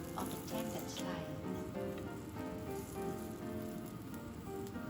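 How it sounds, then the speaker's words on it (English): Steady sizzling and crackling of tempeh slices browning in a hot frying pan, a dense spattering hiss that continues evenly throughout. "On the grill pan or frying pan, brown both sides of the tempeh slice."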